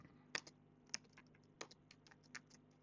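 Quiet, close typing on a computer keyboard, irregular key taps and clicks with a faint steady hum behind them, while someone types into a comment field; no voice is heard.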